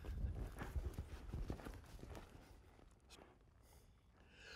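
A cutting horse in training clip-clops on the ground close by, a quick cluster of hoof strikes early on that slows and fades into softer shuffling steps.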